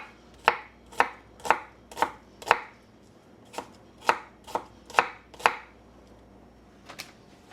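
A knife chops vegetables such as broccoli, carrots and onions during home meal prep, about a dozen crisp, evenly spaced strokes on a cutting board, close and clear with no talking.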